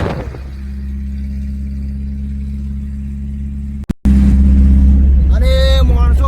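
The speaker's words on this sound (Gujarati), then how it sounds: "એકચ્યુઅલી સાયલેન્સર ફાટી ગયું છે એટલે આજ તો ગાડી હેલિકોપ્ટર જેવો અવાજ કરે છે" A car with a burst silencer, its exhaust roaring in a loud, steady low throb close by, briefly cutting out before resuming even louder, with a voice speaking near the end.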